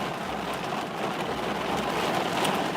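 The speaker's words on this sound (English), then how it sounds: "It's raining like shit." Steady, dense rain falls nonstop on a surface at close range, a loud even hiss with no voices.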